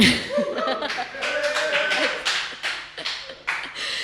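A small audience claps after a live song, with scattered, uneven hand claps and a bit of laughter over several seconds, fairly close and moderate in level, with someone talking over it.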